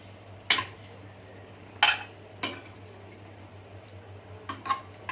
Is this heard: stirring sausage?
yes